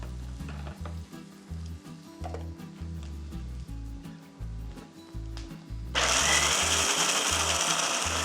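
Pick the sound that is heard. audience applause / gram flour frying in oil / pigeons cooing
gram flour frying in oil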